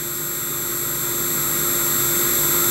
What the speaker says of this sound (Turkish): motorum dönmekte. 50 Hz'de dönmekte.